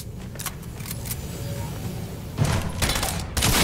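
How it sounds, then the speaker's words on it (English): Shotgun blasts in a Fortnite match: a cluster of sharp, loud reports near the end, preceded by faint distant pops and clicks over a steady game background. "Of course the guy shoots me in the face with a shotgun!"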